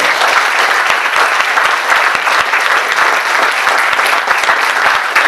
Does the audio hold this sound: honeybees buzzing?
no